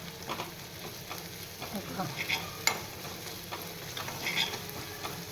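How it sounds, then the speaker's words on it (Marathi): Ginger-chili paste fries in a pan, giving a soft, low sizzle with light stirring scrapes and an occasional sharp tap, faint and without talk. "आलं मिरचीची पेस्ट छान अशी भाजली पाहिजे म्हणून"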